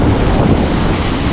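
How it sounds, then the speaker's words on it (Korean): Strong ocean waves break on a beach at Playa del Carmen, Mexico, on a windy, rainy day. The surf is a continuous, loud, close roar mixed with wind buffeting the microphone, and no one speaks. "와, 파도 엄청 세."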